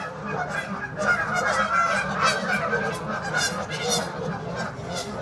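A dense chorus of geese honking continuously at a goose pond, many birds calling over one another at close range with steady, loud, overlapping squawks.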